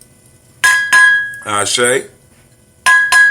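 Glasses clink together during a spoken toast at a gathering: two sharp ringing clinks, then a voice speaks, then two more bright clinks close by.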